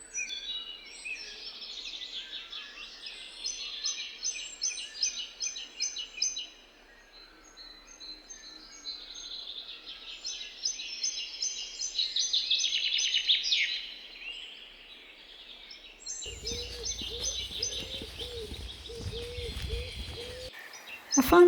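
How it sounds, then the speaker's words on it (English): Birds sing steadily in a green forest, with many high chirps and trills overlapping throughout. A lower rumbling sound joins near the end. "The leaves have that vivid green color and the birds are singing."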